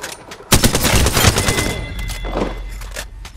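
Rapid automatic gunfire in Apex Legends, a dense burst of close shots followed by scattered rounds and impacts that trail off, with no talking.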